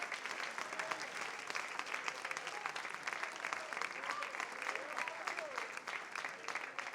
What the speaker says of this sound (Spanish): Aplausos al Espíritu Santo en esta tarde.